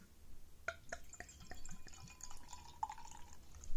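Greene King light ale, a 3% beer from a 275ml bottle, being poured into a glass, with a run of quiet splashes and drips followed by a gentler steady trickle, close and faint.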